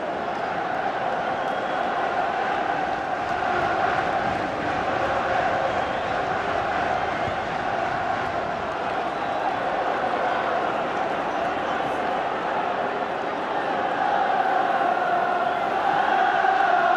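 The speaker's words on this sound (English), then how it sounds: "Biggest league crowd here in around 2 years, making themselves heard." A large football stadium crowd at Sunderland v Burnley in 2007, a continuous roaring, chanting din that swells slightly near the end, with a commentator speaking over it.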